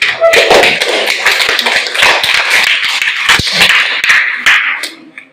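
Enthusiastic applause for two debate teams at a school debate, a loud, dense patter of many clapping hands, steady for several seconds before tapering off at the end.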